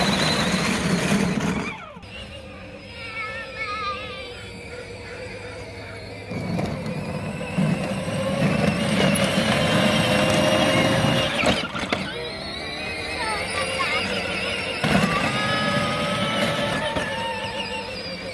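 A 12-volt dual-motor Power Wheels ride-on car on stock tires grinds over rocks, its electric motors whining steadily as the wheels scrabble and clatter across stony ground for the whole stretch, no voices.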